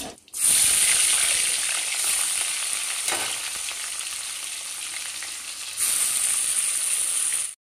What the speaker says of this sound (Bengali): এবার আমি মাছগুলোকে তুলে নেব, আর বাকি মাছগুলোও কিন্তু আমি একইভাবে ভেজে নেব।